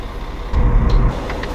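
A police bus engine rumbles nearby on the road, with a low throbbing idle that swells briefly into a louder growl before easing back, no voices present.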